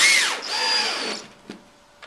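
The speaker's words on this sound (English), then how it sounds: "your drill to secure the angle brackets in place" A power drill drives screws into metal angle brackets while a wall bed is installed, giving a loud whining burst that winds down after about a second, followed by a couple of faint clicks.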